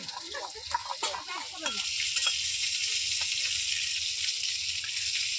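Bhola fish frying in a pan: steady frying sizzle with a few clinks and scrapes of stirring at the start, then a continuous hiss of oil, no voices.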